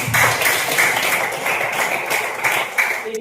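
A small group of children claps in a classroom activity, scattered, light applause that is fairly soft and continues without stopping, with a faint voice mixed in.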